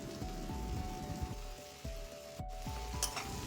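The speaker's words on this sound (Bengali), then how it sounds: "একটা বড় সাইজের টমেটো কুচি করে তেলের মধ্যে দিয়ে দেবো" A large chopped tomato frying in hot oil for a Bengali potol ghonto gives a soft, steady sizzle with occasional stirring scrapes repeating every half second or so, quiet and close.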